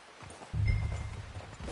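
Horse hooves clop in Red Dead Redemption 2, a soft scuff of steps followed by a heavier run of close, thudding footfalls with no talk.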